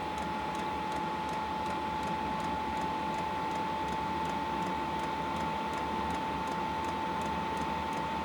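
A Chinese diesel heater draws air in through its intake filter, making a steady, close rushing hiss with a constant whine and light periodic ticks, and no voices are heard.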